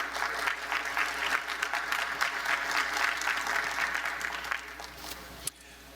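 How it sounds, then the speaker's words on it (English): An audience at a conference plenary claps steadily and warmly to welcome Hans Rosling, a full, even wash of applause that thins out toward the end. "Please, a warm applause."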